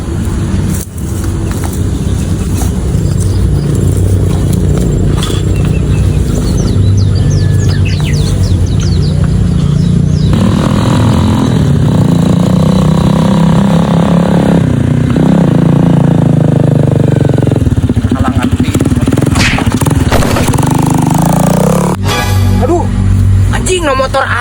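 A motorcycle engine runs steadily and loudly throughout, rising and falling in revs, with excited voices shouting over it.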